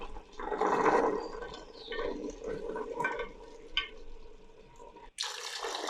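Water pours and splashes steadily into a cooking pot of chickpeas for several seconds, a continuous liquid rush with a few clinks, ending in a brief pause before the flow resumes.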